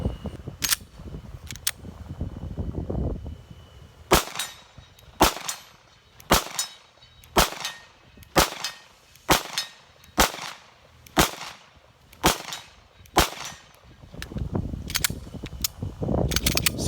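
Single handgun shots from a CZ-P10c fired at a 50-yard range, about a dozen sharp cracks spaced roughly a second apart, loud and close with quiet gaps between them.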